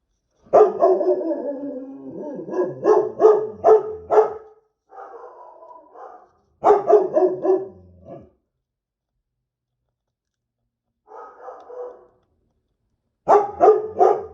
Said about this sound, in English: I'm going to try to talk over the barking of my dog.